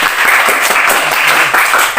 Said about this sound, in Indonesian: Sebelumnya kita beri aplaus dulu.